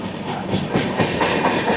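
Loud, close rumble of the Magadh Express running through Anand Vihar station without stopping, with steady rolling noise and rhythmic wheel clatter and no talking.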